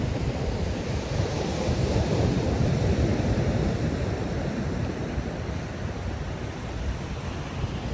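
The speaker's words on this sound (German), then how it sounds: "Wellen sind auch relativ gut" Ocean waves wash onto a beach in cool wind, forming a steady, full rushing roar with gusty wind noise across the microphone and no talking.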